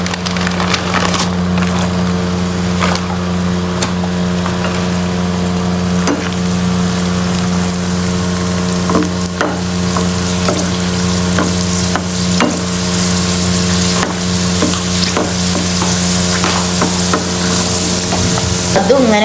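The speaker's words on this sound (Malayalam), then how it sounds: "അണ്ടിപ്പരിപ്പ് നമ്മൾ ഒന്ന് ഫ്രൈ ചെയ്തെടുത്തതിന് ശേഷമാണ് നമ്മൾ അടുത്ത് കിസ്മിസ് ഫ്രൈ ചെയ്യേണ്ടത്" Raisins frying in oil for chicken biryani, a loud continuous sizzle with repeated scraping and clinking of a spoon against the pan, close and busy throughout with a low steady hum beneath.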